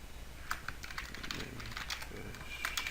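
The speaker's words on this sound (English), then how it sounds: "click on this little search bar, type in Nimbus Screenshot" Typing into a browser search bar on a computer keyboard: a quick, irregular patter of close, light key clicks over a faint steady room hum.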